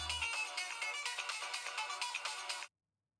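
A mobile phone plays a bright electronic ringtone for an incoming call, a looping melodic jingle heard close for almost three seconds before it cuts off into silence.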